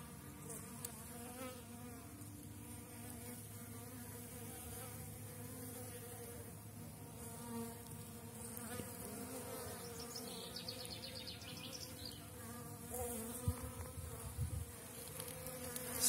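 A swarm of honeybees buzzes continuously at close range while drinking water, a dense, wavering hum of many wings, faint overall with no talk.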